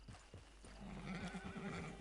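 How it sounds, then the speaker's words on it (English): A horse in the video game Red Dead Online clip-clops along, then gives a clear, wavering whinny. Close and fairly loud, with no talk over it. "Get your horse."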